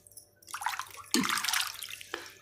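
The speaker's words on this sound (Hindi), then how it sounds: "मैं गुनगुने पानी से धो रही हूँ क्योंकि सर्दी का टाइम है" Fresh fish being rinsed by hand in lukewarm water in a kitchen, with a steady splashing wash that swells into a louder burst of sloshing midway, close and alone without talk.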